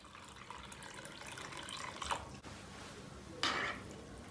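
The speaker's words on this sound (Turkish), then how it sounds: "soğuk su boşaltıyoruz" Cold tap water runs into a bowl of chicken livers soaking in vinegar and salt, a faint, steady splashing trickle with a brief louder gush near the end.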